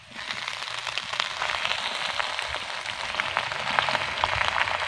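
Chopped Malabar spinach drops into a pan of frying potatoes and sets off a steady, bright sizzle that swells after a quiet start and keeps crackling evenly, with no talk.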